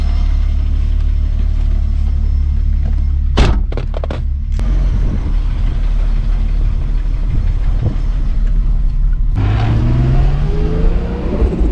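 A turbocharged VR6 engine in a wagon runs loud and close, with a few sharp blips of the throttle early on, then a strong rev that climbs steadily in pitch near the end.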